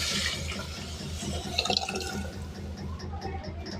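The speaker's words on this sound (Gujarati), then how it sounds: "હવે આપણે આ દાળ એમાં એડ કરી દઈએ." Cooked dal is poured into a pan of spices and garam masala, giving a continuous wet slosh and splash of liquid that runs steadily for a few seconds, close by, with no talking.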